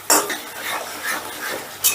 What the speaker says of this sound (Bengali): এবারে মশলাটাকে বেশ ভালো করে কষে নেবো।